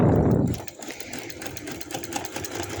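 A sewing machine runs steadily, stitching a coat collar neck seam right to the end of the cut, a close, continuous mechanical whir following a brief louder bump at the start.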